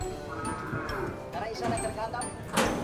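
Water buffalo at a livestock stockyard give a drawn-out, nearby lowing moo, with voices of people talking in the background.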